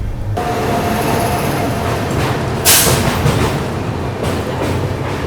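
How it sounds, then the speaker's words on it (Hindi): The Gorakhpur Yesvantpur Superfast Express passes close by with a loud, continuous rush of rolling wheels and rattling coaches, and a sharp hissing burst partway through. "Gorakhpur Yesvantpur superfast express."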